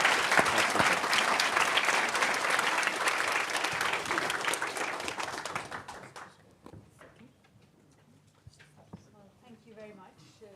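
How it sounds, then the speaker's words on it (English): Applause for panelists at a research conference on pandemic and epidemic intelligence: a loud burst of many hands clapping that fades away after about six seconds, followed by quieter room noise and scattered voices. "So a round of applause to our panelists."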